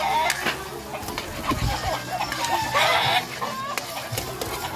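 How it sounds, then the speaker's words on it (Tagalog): Chickens cluck intermittently nearby, with a few louder squawks among background rustling and clatter. "pagpasensyahan nyo na, maingay mga manok"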